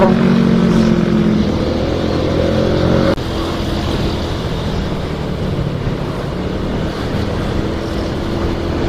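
A motorcycle riding through heavy, dense traffic, with steady loud engine drone and road noise throughout and a brief shift in tone partway through, no talking.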